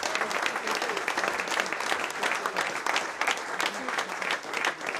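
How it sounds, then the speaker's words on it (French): A hall audience gives sustained, steady applause for several seconds, with dense clapping and no other sounds. "je tiens à ce que vous les applaudissiez très fort"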